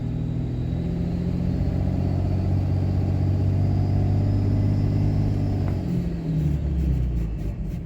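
A Cummins diesel engine in a Megacab truck held at about 2,000 rpm during an injector diagnostic test, a loud, steady low rumble with a throbbing, even drone and a slight dip toward the end.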